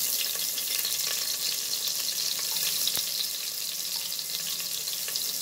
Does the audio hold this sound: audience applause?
no